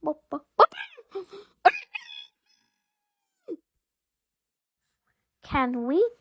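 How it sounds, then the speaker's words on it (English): A chicken clucks and crows in short bursts, starting with a few clipped calls and then a longer call near the end, separated by silence. "Oh, it's a chicken."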